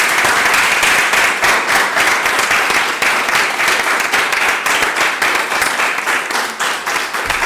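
A loud, sustained wave of audience applause for the organizer at a book presentation, dense rapid clapping from a full room, steady and close throughout.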